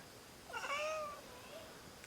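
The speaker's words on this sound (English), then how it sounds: "I'm trying to show you May, which is Zachary and Samantha's cat" A house cat at a farmhouse gives one clear, drawn-out meow at moderate distance over faint background noise.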